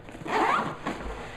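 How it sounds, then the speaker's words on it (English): The front pocket zipper on a bag is pulled shut in one quick, close rasping zip, with a faint second drag just after and no voices. "Zip that shut."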